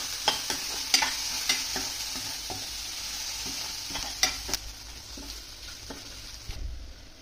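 Onion frying in a pan for masala okra, a steady close sizzle with intermittent scraping stirs and spatula knocks throughout, no voices.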